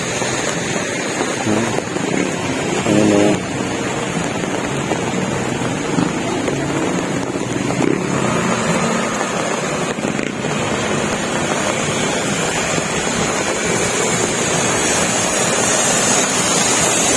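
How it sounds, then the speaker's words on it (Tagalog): Heavy rain pours down steadily near a motorcycle outdoors, a dense, loud, unbroken hiss with wind buffeting the microphone; a voice speaks briefly once. "Mukhang matagal bago tumila rin ulan"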